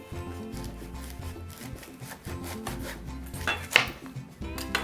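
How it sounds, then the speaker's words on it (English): A knife slices a garlic-and-rosemary-stuffed artichoke in half lengthwise, a few crunchy, scraping cuts heard under steady background music, with one sharper, louder crunch near the end. "Cut the artichoke in half lengthwise."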